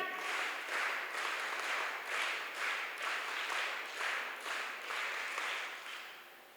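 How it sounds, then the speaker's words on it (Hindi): A women's gathering at a character-building and self-defence training camp claps in welcome, with steady applause rising and falling in regular waves, fairly distant and moderately soft throughout. "तो एक बार दोबारा करतल ध्वनि द्वारा इनका स्वागत अभिनंदन करेंगे। वीरांगना ताली।"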